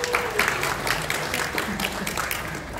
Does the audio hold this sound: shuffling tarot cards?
no